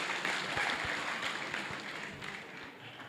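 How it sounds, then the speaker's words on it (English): Crowd noise at an indoor bouldering competition, a steady roar of cheering and clapping that fades slightly toward the end, with a commentator's voice faintly underneath. "Would you look at that and hear that crowd roar?"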